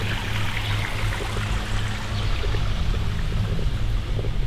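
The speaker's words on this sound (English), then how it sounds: "you can hear the water just rippling along" Water ripples and trickles steadily along a small stream beside a footbridge on a golf course, a continuous close babbling flow with a low engine-like hum underneath and no talk.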